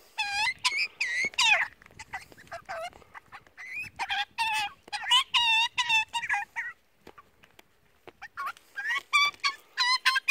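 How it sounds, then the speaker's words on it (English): Baby Western Australian magpie, a four-week-old rescued chick, squawking repeatedly while being hand-fed; loud, close, harsh rhythmic calls in rapid bursts with short pauses. "You feed them until they stop squawking."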